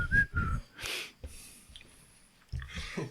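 A person whistles a few short, high notes near the start, mixed with breathy puffs and snorting sounds, then quieter rustling before more breathy noises return.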